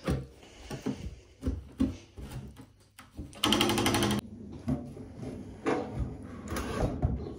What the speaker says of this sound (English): Just going to run a scrape around now to try and break off any adhesive what's on underneath.